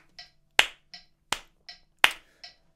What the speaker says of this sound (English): Clapping your hands on 2 and 4.